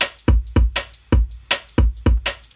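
Drum samples from the Codec kit play a tight looping beat: punchy kicks and snappy hits in a quick, even rhythm, dry and alone.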